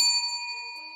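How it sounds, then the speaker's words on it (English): A single bright bell ding rings out for a food order, clear and close with a long ringing decay and no voices. "Let's ring the bell for that."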